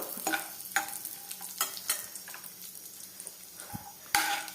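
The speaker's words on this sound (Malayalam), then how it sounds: "കാഷ്യൂ നട്ട്സ് ചേർത്ത് കൊടുത്തത് ഒന്ന് റോസ്റ്റ് ചെയ്തെടുക്കുക കേട്ടോ" Chopped cashew nuts roasting in a pan for a carrot sweet, with repeated light scraping and tapping of a spatula, quick clicks over a faint sizzle and a louder knock near the end.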